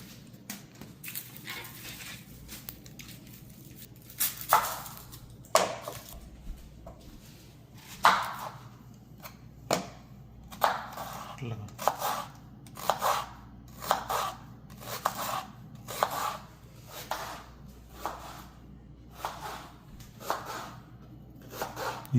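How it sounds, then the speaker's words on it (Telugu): Knife chops through lemon and onion on a board in a steady, close series of crisp cuts, quickening into a regular rhythm, with quiet kitchen background. "నిమ్మకాయ కోసిస్తావా? ఉల్లిపాయ కూడా కోయన్నా."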